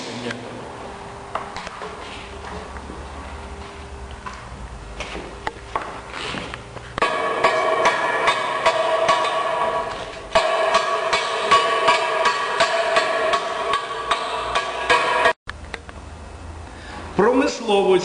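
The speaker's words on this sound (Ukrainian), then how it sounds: "проходимо весь шов молотком" Repeated metallic tapping of a hammer along a freshly welded pipe fitting seam after the torch is turned off, a quick irregular rhythm of sharp knocks close by, with steady background noise and brief pauses.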